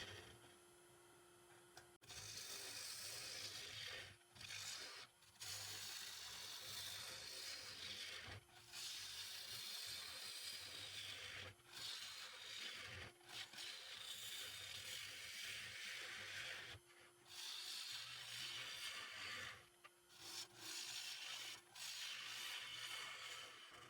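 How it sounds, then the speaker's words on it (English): Gouge hollowing the inside of a green maple bowl on a wood lathe, a continuous close scraping and shaving rasp broken by brief pauses as the tool lifts away. "Time now to hollow out the internal side of the bowl."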